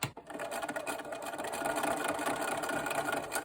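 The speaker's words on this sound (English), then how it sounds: "I started sewing on this leader." A sewing machine with a quarter-inch foot stitches quilt fabric in a fast, steady mechanical whir with a light rattle, close and continuous before stopping abruptly.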